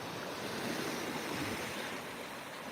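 Surf washing onto Meads Bay beach in Anguilla, a steady broadband roar of breaking waves with some wind across the microphone, continuous and fairly loud with no voices.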